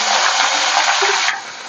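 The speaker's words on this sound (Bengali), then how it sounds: "ওই তেলেই আমি পেঁয়াজটা ভেজে নেবো।" Onions frying in the oil left from frying amudi fish for a Bengali fish-and-brinjal dish, a loud, steady broadband sizzle that eases slightly near the end, with no talk.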